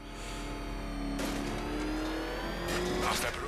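The Batmobile in Batman Arkham Knight rumbles and revs, its engine tone climbing steadily over a low drone with bursts of broadband noise like tire squeal or thrusters.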